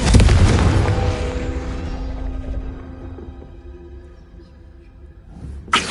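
A Confringo spell explodes in Hogwarts Legacy: a loud booming blast up front that rumbles and decays over several seconds, with a sharp new hit at the very end.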